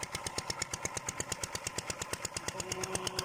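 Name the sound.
engine running a water pump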